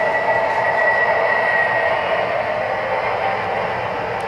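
Steady whirring hum of an MTH model train engine running on track, with a constant motor whine and light track rumble, no talking.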